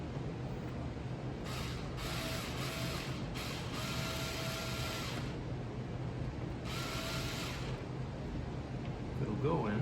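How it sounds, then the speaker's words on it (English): Screw being driven into interior wood trim of a Volvo V70R, heard as intermittent ratcheting, clicking mechanical bursts close by over a steady background hum. "Now, I'll put this screw in."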